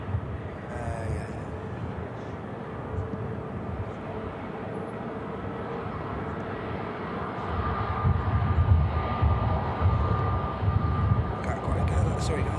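EasyJet airliner taxiing at Manchester Airport, a steady low jet engine rumble holding throughout and growing slightly louder toward the end, with faint voices nearby.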